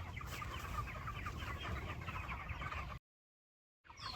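Chickens cluck steadily around chicken tractors, a busy, close flock chorus that cuts out abruptly near the end and briefly resumes.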